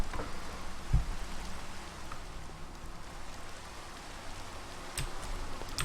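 Steady rain in Minecraft patters continuously with a few sharper drips and ticks standing out, even and moderately loud throughout.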